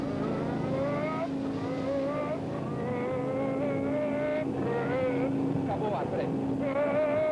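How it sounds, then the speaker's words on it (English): Ayrton Senna's 1991 Formula 1 car on a qualifying lap, a high-pitched engine scream that rises and falls through gear changes, running continuously and loudly. "This was Senna's stunning qualifying lap hours after the Donnelly accident, which gave him his 50th pole position"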